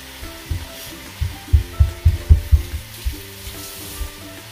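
Chicken sizzling and sautéing in a hot pan, with a run of soft stirring scrapes in the middle, no voices.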